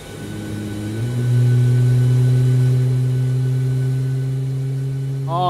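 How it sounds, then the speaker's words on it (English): The engine of a Boeing 737 MAX 8 in a flight simulator spools up during start, a steady rising whine and hum that swells and then holds loud and close. "All right, engine number 2 is motoring"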